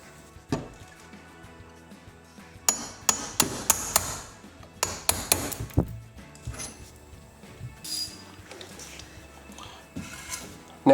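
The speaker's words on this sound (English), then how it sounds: "using a hammer and punch, drive it out" A hammer strikes a punch to drive a pin out of a drive hub extension on a Coleman or Fleetwood pop-up camper, producing sharp metallic blows: a scattered few, then rapid clustered strikes, close and loud with pauses between bursts.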